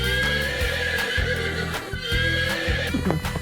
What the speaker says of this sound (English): Horse. Horse.